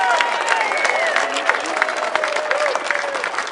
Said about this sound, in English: Give yourselves a round of applause because you deserve it.